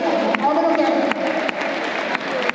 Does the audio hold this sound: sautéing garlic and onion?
no